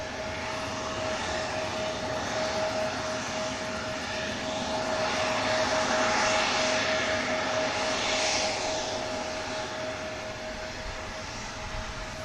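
An Airbus A380 airliner at Manchester Airport runs its engines, a continuous loud roar with a steady high whine, swelling slightly midway and easing toward the end, heard from outside with no talk.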